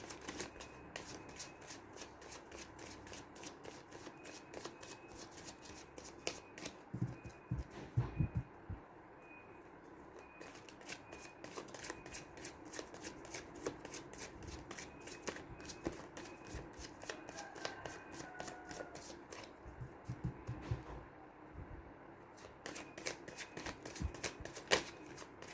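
Tarot cards shuffled by hand in a continuous run of rapid riffling flutters, close and clear, with brief pauses between bursts.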